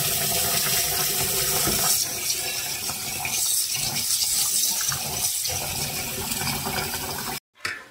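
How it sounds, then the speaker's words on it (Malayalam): Water pours steadily and loudly into a bowl of grains set to soak for kabsa, a continuous rushing gush that cuts off abruptly near the end. "അപ്പം ഞാനിതിൽ വെള്ളം ഒഴിക്കാൻ വേണ്ടിയാണ്"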